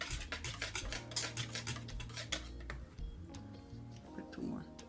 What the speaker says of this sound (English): you're gonna give this a little whisk